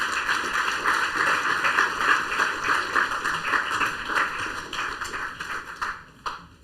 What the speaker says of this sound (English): A round of applause for Adana.